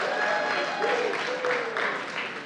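An audience at a city council swearing-in ceremony claps briefly, a moderate wash of applause that fades out within a couple of seconds, with a faint voice mixed in.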